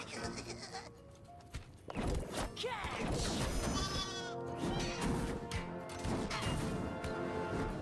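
Sheep bleating in World of Warcraft, with several wavering bleats rising over busy, dense game noise full of clatter and crashes, while a voice talks throughout.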